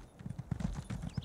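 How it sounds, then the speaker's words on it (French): Horse hooves clip-clop in The Elder Scrolls Online, a quick close run of about a dozen soft, even thuds at a trotting pace, heard alone. "Elle a quoi comme cheval de merde là?"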